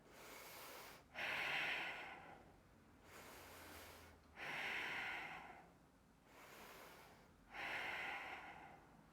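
Deep, slow breaths during a yoga lunge, three long airy exhales spaced about three seconds apart, each rising and fading, close and fairly quiet with no talking.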